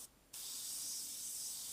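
A Sagola airbrush sprays paint: a brief pause, then a steady close hiss of atomised paint that runs on without break.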